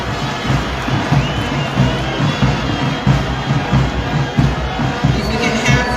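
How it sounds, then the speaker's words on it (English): A large crowd at an Independence Day showcase cheers and shouts loudly and continuously after a performance, a dense wall of voices with surges of excitement throughout. "And another round of applause to the ZNS."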